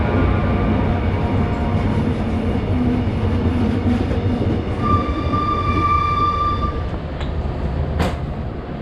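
A Korean train bound for Busan rumbles loudly into a station, wheels grinding and a high squeal rising briefly as it slows, with a sharp clank near the end.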